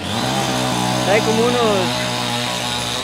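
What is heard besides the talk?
chainsaw cutting tree roots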